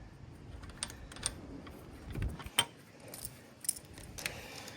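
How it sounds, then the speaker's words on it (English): Small metal clicks and light clinks from a locking nut being fitted by hand onto a Ryobi 2500 PSI electric pressure washer, a few scattered taps and jingles at close range over a quiet room. "And I'll put on the little locking nut right now."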